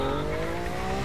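A supercar in the racing game The Crew 2 accelerates hard, its engine drone steady and loud with rising tonal harmonics across the full second, no voices over it.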